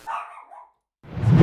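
A dog barks indoors in short bursts during a high school Valorant esports league broadcast, then a louder, rougher sound swells in close at the end.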